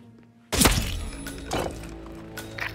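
A single sharp, heavy sniper rifle shot in a Hitman level, sudden and loud against a quiet background, then a ringing decay, a second softer thump and faint game ambience.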